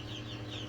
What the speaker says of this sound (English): So and here's our little baby chickens.